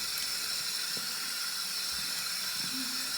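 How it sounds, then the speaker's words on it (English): A tap runs steadily into a sink while face cleanser is rinsed off, a close, continuous hissing stream with small splashes and a brief tonal squeak near the end before it cuts off. "Okay, let's wash this off."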